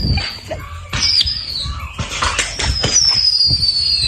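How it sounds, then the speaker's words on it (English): Fireworks bursting nearby with sharp crackling pops and rising whistling squeals, loud and continuous through the stretch. "And he's in the house just in time for the explosion."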